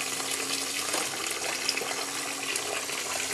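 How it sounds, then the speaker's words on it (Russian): Hot water pours steadily into a large tank of sugar for making sugar mash, a continuous close rushing splash with no talk over it. "Заливаю его сразу горячей водой."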